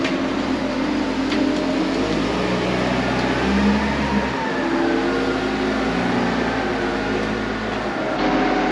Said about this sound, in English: Maxime, he's gonna grab the case wheel loader and lift me up from the inside.